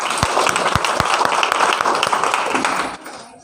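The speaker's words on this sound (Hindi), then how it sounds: "जोरदार तालियां इनके लिए।" An audience at a motivational meeting breaks into enthusiastic applause, a dense burst of many hands clapping close by that fades out after about three seconds.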